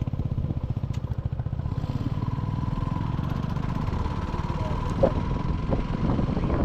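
A motorcycle rides along a road on a long trip, its engine chugging steadily and close with wind rumble throughout.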